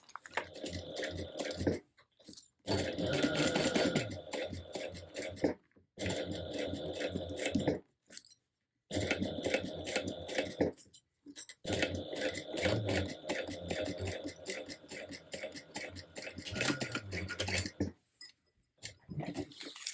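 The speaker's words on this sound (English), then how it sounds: "And we will repeat that, sewing this in place at a 3/8 inch seam allowance." A sewing machine stitching the seam of a clear Catalina bag near a D-ring, fast rhythmic needle ticking in long bursts separated by short pauses.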